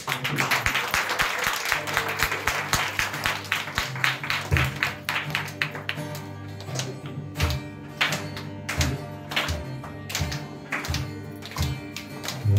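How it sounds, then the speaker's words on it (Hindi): A church congregation applauds the pastor with dense, rapid clapping that runs loud and continuous at first, then thins into scattered claps and taps over a low musical hum. "क्यों ना हम हमारे पास्टर के लिए एक जोरदार ताली देते हैं"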